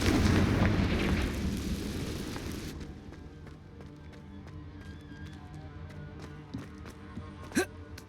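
A Confringo fire spell is cast in the Hogwarts Legacy video game: a loud roaring blast fades out, followed by scattered sharp clicks and small pops.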